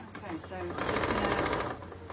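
A sewing machine stitching two fabric pieces together for a headband, a fast, steady mechanical whir of the needle running continuously, with a voice talking over it.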